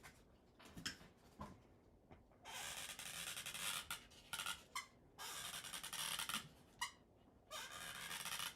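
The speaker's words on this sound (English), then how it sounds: "Is this squeaking that loud to you guys?" Repeated squeaking bursts from squeezing a tool or material while making a Cricut double accordion gatefold card, coming in several sustained stretches with short gaps and faint taps between, close and fairly quiet, with no talking.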